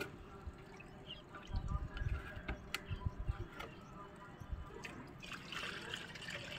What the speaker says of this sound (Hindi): और आप देख सकते हैं कि यह बहुत तेज़ी से पानी नीचे की ओर जा रहा है।